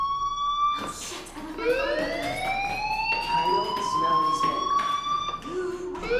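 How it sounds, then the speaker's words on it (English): A wailing fire alarm siren in the Life is Strange video game rises and holds in long sweeping tones that repeat steadily, loud and close, with a brief start and a second rise near the end. "Hey, do you hear that fire alarm? That means you should be outside."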